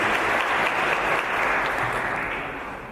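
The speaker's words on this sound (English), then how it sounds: "Let's give her another big round of applause." Steady, loud applause from a seated audience at a foundation event, dense and even throughout before easing slightly toward the end, with no voices over it.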